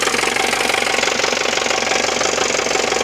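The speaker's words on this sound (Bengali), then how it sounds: "ইঞ্জিনের সাউন্ড মাসাল্লাহ খুবই সুন্দর সাউন্ড" A 2018 Mahindra Bolero pickup truck engine idles steadily nearby with a rhythmic, throbbing knock, loud and continuous with no talking.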